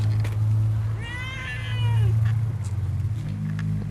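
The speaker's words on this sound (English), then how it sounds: "Here's my cat, who's not meant to be outside." A cat that is not usually outdoors meows outside near a 1964 Datsun Bluebird wagon, one drawn-out, wavering meow in the middle, close and clear over a low steady rumble.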